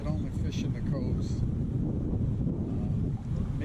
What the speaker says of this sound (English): It is so windy out there, we could only fish in the coves.